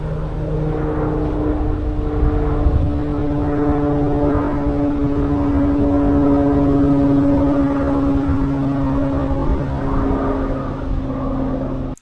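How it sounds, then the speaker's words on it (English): Water-scooping firefighting airplanes flying over a reservoir fire drone loudly and continuously overhead with a steady propeller hum for the whole stretch, no talk. "the airplanes that were buzzing me were both aquatic airplanes equipped with water tanks using the reservoir's water to scoop up and fight the fire"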